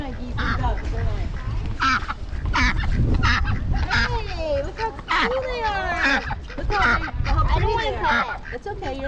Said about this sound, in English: They're ducks.